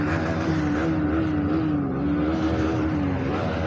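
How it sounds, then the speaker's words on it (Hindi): Two sporty motorbikes ridden at night during Diwali, one a Bajaj Pulsar NS200, come up from behind, their engines droning and revving steadily and loudly, close by and sustained throughout. "अभी दोनों एक जोश वाली बाइक पीछे आ रही है"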